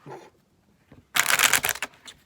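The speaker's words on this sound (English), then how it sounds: "Let's shuffle" A burst of brisk tarot card shuffling, a quick riffling flutter lasting about a second, after a short murmur and a faint tap.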